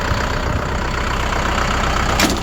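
A heavy tractor engine runs steadily at close range, a continuous low rumble with no talk.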